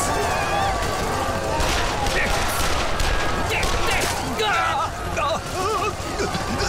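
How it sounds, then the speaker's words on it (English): Rapid bursts of game gunfire from Yakuza 5 Remastered crackle through a chaotic scene, mixed with background shouting and voices talking over the shooting. "That's a gun!"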